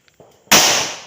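A single close firecracker bursts with a sharp, loud bang and a rushing hissing decay, after a few faint clicks and rustles, set during Vishu festival celebrations.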